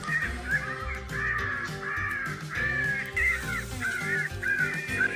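Repeated harsh cawing of crows in a steady rhythmic series, loud and fairly close, layered calls overlapping.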